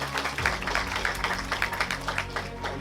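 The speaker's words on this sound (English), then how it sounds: "A round of applause for them." An audience at the Ghana national rounds of an international environmental moot court competition applauds a team, a short burst of close, lively hand claps after a low hum.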